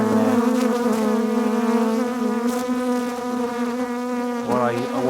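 Honeybees swarm around a hive as they get ready to swarm, making a dense, steady buzz with a strong hum. The sound stays close and continuous, with brief louder swells as bees pass near.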